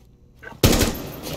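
Gunshots in a video game burst in suddenly as a dense rapid volley of automatic fire after a quiet moment, loud and close, continuing to the end.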